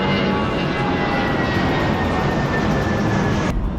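A loud, steady airplane engine roar overhead fills the scene in Phuket, a broad continuous rumble that cuts off abruptly near the end, with no talking.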